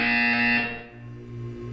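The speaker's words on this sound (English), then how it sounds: "You will hear a buzzer." Electronic buzzer in the Portal 2 video game sounds loud and steady for about half a second over a low hum, then cuts off, leaving only the droning background tone.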